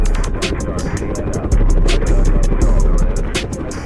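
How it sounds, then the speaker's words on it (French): A steady, loud mechanical drone with a rhythmic thumping pulse, like a helicopter's rotor, running throughout without letup. "Il embarque dans son hélicoptère privé et le pilote lui-même."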